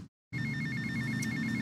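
A telephone rings in the game GTA Vice City. A steady, loud electronic trill fills the room after a brief silence, with a continuous low hum underneath.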